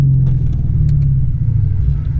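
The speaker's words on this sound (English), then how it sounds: "the combination of the induction and the exhaust, like they're fighting each other" A Lexus IS F V8 revs hard with induction and exhaust notes blending into a loud, steady low rumble close to the car.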